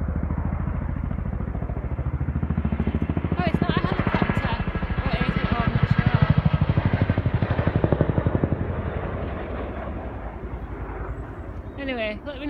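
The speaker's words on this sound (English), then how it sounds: "It was a Chinook." A Chinook helicopter flies overhead above the Lake District countryside, a loud, steady, rhythmic rotor thump that swells in the middle and fades toward the end, with people talking nearby.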